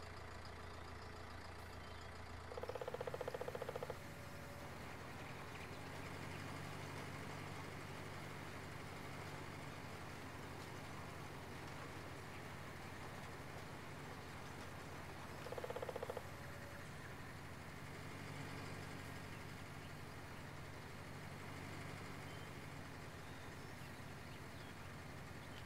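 Tractor engine in Farming Simulator 19 running in a steady, low idle drone for the whole stretch, quiet and continuous, with a couple of brief tonal game sounds over it and no talk.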